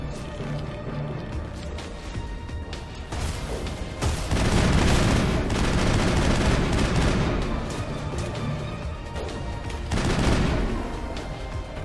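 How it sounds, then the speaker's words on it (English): Assault rifle fire in the video game Mass Effect, sustained bursts of rapid gunfire mixed with heavier booms of battle, loud and dense, swelling to its heaviest in the middle and again near the end. "I'm actually gonna go to my assault rifle"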